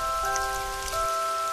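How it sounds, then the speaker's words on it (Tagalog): Heavy rain pours steadily on a surface, a dense continuous hiss, with faint sustained musical tones running underneath. "kakakilakilabot na ulan na to"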